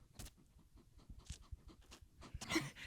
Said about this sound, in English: We also have our two dogs here, Arrow